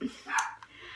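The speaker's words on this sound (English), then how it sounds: "Sorry, you can hear my dog barking." A dog gives a single short bark nearby, standing out briefly over faint room background.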